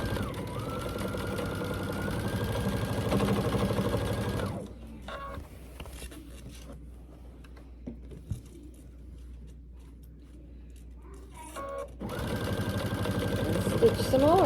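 A sewing machine stitches down quilt binding in rapid, whirring bursts, running steadily, falling quiet mid-clip, then starting again near the end, with a voice talking briefly over it.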